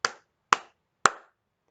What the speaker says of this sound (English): Simon Says, clap your hands 3 times.